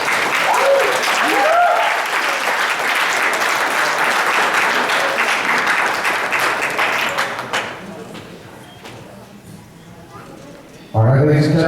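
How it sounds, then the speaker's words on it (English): Wedding guests break into loud, sustained applause after a speech, dense clapping filling the room for several seconds before fading, with voices talking over it at the end. "let's give all of our sisters another big round of applause"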